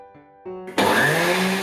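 A blender fills with watermelon, lemon and mint and starts up in short stepped bursts of motor hum, then jumps to a loud, steady whirring churn as the fruit is blended.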